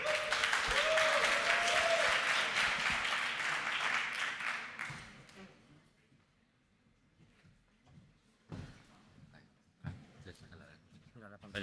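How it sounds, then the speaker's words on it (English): A hackathon audience at a finals event in New York applauds the SwapPay team: steady, dense clapping for about five seconds that thins and fades, followed by scattered sounds and brief talk. "Let's give a big round of applause to SwapPay"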